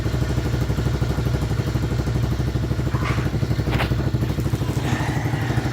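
A 110cc pit bike engine idles after a cold start, close and loud with a steady, even putter that holds throughout, with light mechanical clatter on top.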